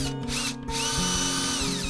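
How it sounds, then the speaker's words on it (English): A cordless drill whirs loudly and steadily close by, drilling into wood, its motor pitch briefly dipping as it bites into the material, with no voices. "Take your cordless drill"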